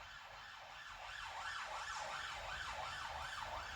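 A wailing emergency siren rises and falls in a repeating rhythmic pattern, steady and somewhat distant, swelling slightly louder after the first second.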